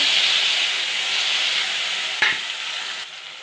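Tomatoes frying in oil with turmeric and red chili powder, a loud, close hiss of sizzling with a single clack of a spoon being stirred, no talk.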